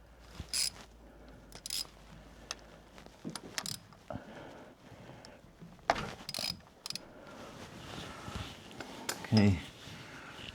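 On a 2023 Corvette C8 Stingray, a wrench works loose the 13 mm drain plug on the DCT transmission, giving sparse ratcheting clicks and metallic taps amid quiet shop noise, with a voice speaking intermittently.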